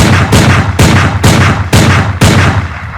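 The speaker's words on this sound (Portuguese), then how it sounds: "E quando o Hulk o desafia a atirar," Loud cartoon gunshots are fired at the Hulk in a rapid, evenly spaced series of about seven booming blasts, each cutting off the ringing of the one before.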